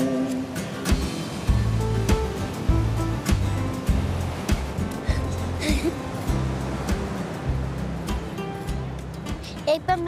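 Sea waves wash around people standing in the water at a beach, a continuous rushing surf heard close by under steady talk.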